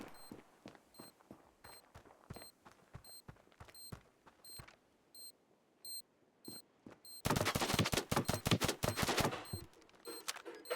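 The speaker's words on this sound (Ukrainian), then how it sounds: "що ти стріляєш по мені" Rapid gunfire bursts in the mobile shooter Standoff 2, sharp repeated shots with electronic beeps at first, then a loud dense volley of automatic fire near the end.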